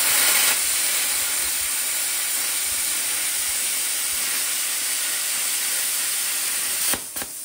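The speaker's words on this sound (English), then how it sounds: "Rusty metal is a good test of a plasma cutter." A plasma cutter slices through rusty metal with a steady, loud hiss that holds for about seven seconds, then cuts off abruptly with a couple of brief crackles at the end.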